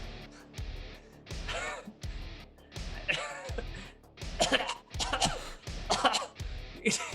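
Repeated harsh coughing fits, several bursts in a row with short pauses between, close and fairly loud.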